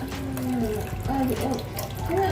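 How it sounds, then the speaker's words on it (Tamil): Water pours into a pot of plain dal sambar with red radish, made from ration-shop lentils. A steady, close trickle runs throughout, with faint tonal clinks from the vessel. "தண்ணி ஊற்றி"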